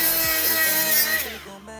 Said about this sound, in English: Whiz all that old gasket material off and make it all nice and clean.